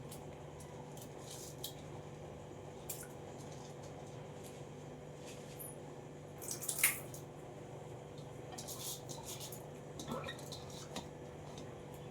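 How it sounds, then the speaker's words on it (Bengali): A spoon stirs cumin rice into mutton gravy in a pot, giving sparse metallic clinks and scrapes with a few wet squishes over a quiet background hum. "এবার আমি একটুখানি নাড়িয়ে দিচ্ছি"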